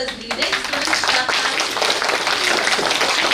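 Students at a school quiz competition clap their hands, a dense burst of applause from a group that stays loud and steady throughout, with some voices mixed in.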